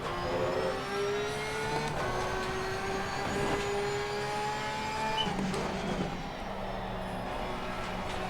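Porsche 992 race cars in a racing video game scream past with rising and falling engine whines, several overlapping cars shifting gears, a steady near roar throughout.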